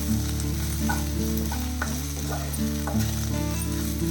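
Okra and onion sautéing in a pan over low flame, a continuous close sizzle with occasional stirring scrapes, under a steady low background hum.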